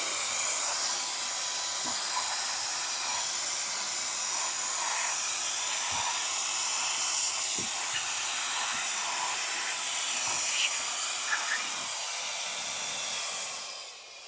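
A Wolfbox Megaflow 200 blower blasting dirt out of the recesses of a caravan's MPK sunroof skylight, a loud, steady rushing hiss held for the whole stretch, with faint knocks beneath before it tails off.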